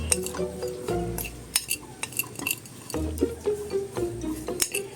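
A utensil stirs and mixes leftover fried fish flakes with a pinch of salt in a pan, giving repeated close scraping clinks and taps in an irregular rhythm, with no talking.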